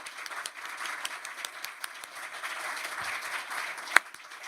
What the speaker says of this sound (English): I would like to ask you to applaud our panelists